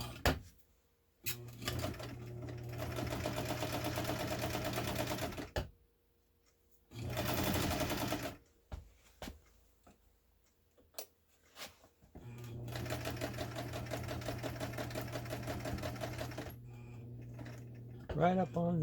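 Brother 230 Galaxie sewing machine sewing down a seam, three loud bursts of rapid mechanical stitching separated by quiet pauses and handling noises.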